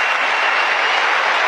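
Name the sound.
audience applause at a comedy show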